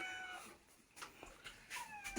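A pet cat gives a few short, faint meows close by in a quiet indoor space, spaced irregularly, with no talk.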